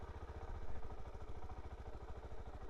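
A Suzuki DR-Z4S motorcycle crawls along at walking pace with no throttle. Its single-cylinder engine chugs at idle in a steady, fast rhythmic pulse, low and fairly quiet, with some mechanical clatter.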